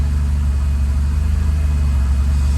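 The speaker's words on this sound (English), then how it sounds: "Look at that perfect idle." A Honda Civic Type R engine idling, a loud, steady low rumble close up with an even pulsing beat and no revving.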